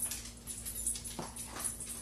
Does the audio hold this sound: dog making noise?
yes